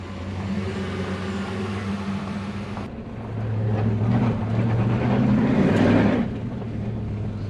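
A 2007 Toyota Hilux Vigo 4x4 with a swapped 3UZ V8, a manual gearbox and a new exhaust drives along, its engine rumbling loud and close and then swelling briefly as it pulls harder.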